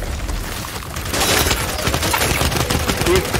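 Rapid video game gunfire, loud and dense, with bursts of shots overlapping in a continuous barrage.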